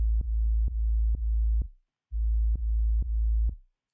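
A deep sub-bass synth tone plays in repeated sustained notes with clicky attacks, pauses briefly, then resumes with a few more notes.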